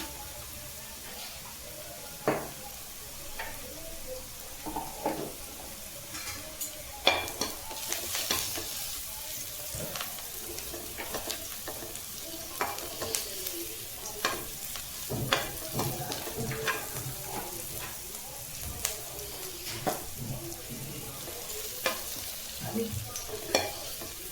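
Onions fry in a pan as turmeric powder is added for an egg masala, with a soft, steady sizzle and repeated spoon scrapes and stirring clinks, heard close and fairly faint.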